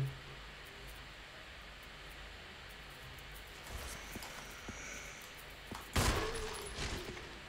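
Gunfire in the Resident Evil video game: a quiet, hissy stretch with a few faint shots, then a louder burst of gunfire with a crackling tail near the end.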